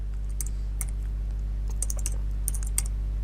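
Rapid clicks of keys on a computer keyboard while code is being typed, coming in short irregular bursts with brief pauses, close and clear over a steady low hum.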